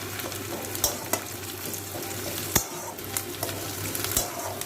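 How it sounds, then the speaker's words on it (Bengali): Onions sizzle steadily in a frying pan for sautéed beetroot, a continuous close crackle broken by a few sharp clicks and taps of stirring. "দেখুন পেঁয়াজটা ভাজা ভাজা হয়ে এসছে।"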